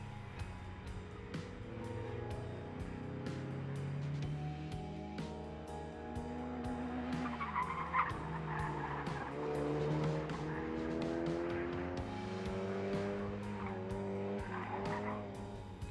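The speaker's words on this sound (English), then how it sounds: "Followed by two Miatas finding the fast outside line." Mazda Miatas corner hard on an autocross course, tires squealing and skidding through the turns as engines rise and fall in pitch, several passes following one another at moderate distance.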